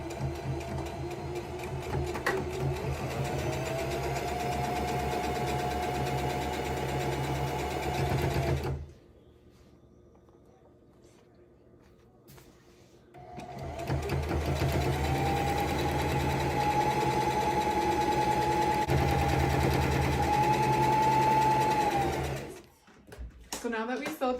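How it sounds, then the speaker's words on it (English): A sewing machine stitches a straight seam down the sides of a ribbon skirt, a close, steady mechanical whir that runs for several seconds, pauses briefly, then resumes and stops near the end. "I'm just going to sew a straight line all the way down."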